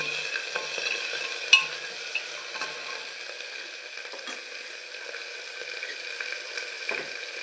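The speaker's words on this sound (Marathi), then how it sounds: "थोडंसं मीठ टाकलं की कांदा आपला लवकर भाजला जातो" Onion fries in a pan with salt and ginger-garlic paste, giving a soft, steady sizzle with occasional stirring scrapes and clicks, fairly quiet and without talk.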